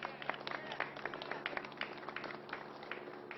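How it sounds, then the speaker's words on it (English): Scattered applause at a press conference following a deadly California mass shooting, a thin wash of clapping with distinct individual claps, moderately faint and steady with no talking. "a big round of applause"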